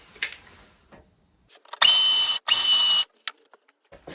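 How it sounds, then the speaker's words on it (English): Two short bursts of a high-pitched hammer drill with a masonry bit boring into a wall, with brief pauses and small knocks between them. "Masonry bit, hammer action."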